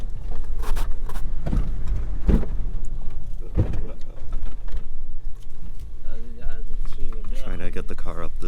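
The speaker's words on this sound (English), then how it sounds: "Trying to get the car up this sand hill right here." A car strains to climb a steep sand hill on a rough desert track near the Terjit oasis in the Sahara, Mauritania, its engine droning steadily and close while people talk over it.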